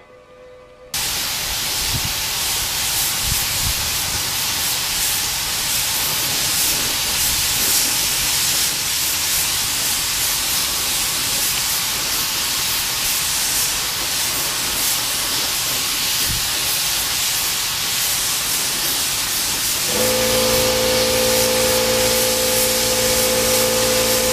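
Primer is sprayed onto a part from a Yamaha FZR motorcycle under restoration, a loud, close, unbroken spray hiss lasting over twenty seconds, with a faint hum joining near the end.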